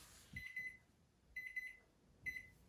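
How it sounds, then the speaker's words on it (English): Kitchen timer alarm going off while a pear tart is being baked: three separate bursts of rapid electronic beeping, each lasting under a second, clear and close with quiet gaps between them. "Timer is now off"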